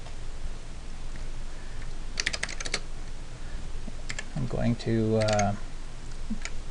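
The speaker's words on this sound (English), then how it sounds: "sitting there typing, not even paying attention" Computer keyboard typing comes in two short bursts of quick clicks, close and clear over a steady hum, with a brief voice between them.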